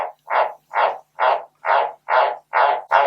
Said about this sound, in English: Small pause for my frog to stop shouting at me.